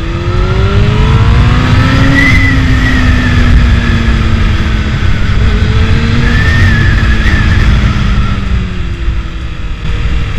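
A Honda Hornet 600 motorcycle engine revs hard at high rpm, climbing through gears in repeated rising sweeps, loud and close with constant wind and road roar underneath.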